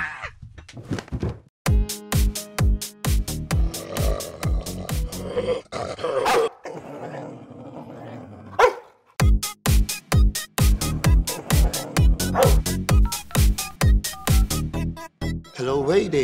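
Small puppies barking repeatedly and close by, sharp yaps coming in rapid bursts across the whole stretch with a brief lull in the middle, at times mixed with low growls.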